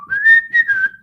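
A person whistles a short, bright tune alone, a single sustained melodic phrase lasting about a second, close and clear with no talking.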